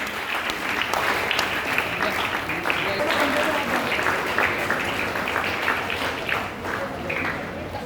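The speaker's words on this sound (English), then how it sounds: "Let's continuously clap for them." A large audience at a closing ceremony of an under-14 boys' school cricket championship claps continuously for a regional team, a dense, steady wash of applause that runs throughout.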